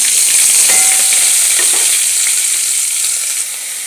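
Cumin and fennel seeds frying in a little oil in a kadai as other ingredients go in, giving a steady, loud, close sizzle with faint stirring scrapes throughout and no voices.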